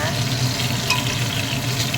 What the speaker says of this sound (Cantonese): 先煎一煎佢先，羊肉煎咗你先